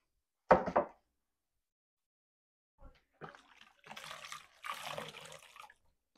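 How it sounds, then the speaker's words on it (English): Hands washed under a running kitchen tap after handling raw meat, with a sharp knock at the start followed by bursts of splashing water that stop and start, close and fairly quiet, with no voices. "Wash my hands since I had it on that meat."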